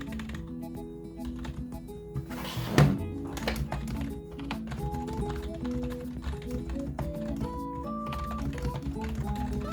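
Steady, rapid tapping on a very light budget keyboard from a Five Below gaming setup, the keys clattering continuously over background music with one louder thunk early on.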